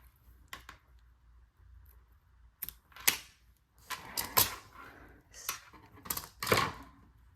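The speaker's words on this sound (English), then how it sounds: "trigger warning for scissors" Scissors snip through kandi-making material for a Hello Kitty and Garfield bracelet, a run of sharp, close clicks and crisp cuts in uneven bursts against a quiet background.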